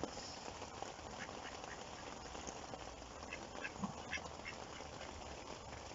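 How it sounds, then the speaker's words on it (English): Ducks quack a few times at middle distance near water, faint and scattered over a low outdoor background hum. "Quack quack."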